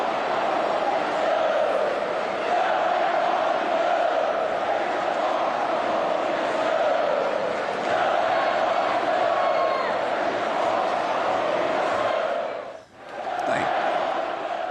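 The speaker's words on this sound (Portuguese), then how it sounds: "a gente pode ouvir o intervalo quando a torcida canta e vaia" Palmeiras football crowd at Allianz Parque, a huge sustained mass of voices singing and jeering across the stadium, steady and loud with a brief dip near the end.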